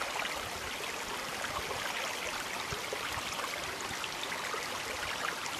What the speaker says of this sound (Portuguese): Não sei se dá pra vocês escutar o barulho da água passando.